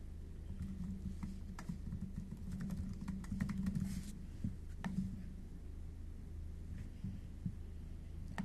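Soft, quick keystrokes patter on a computer keyboard as a file name is typed, a steady run of light clicks over a low background hum with no talking.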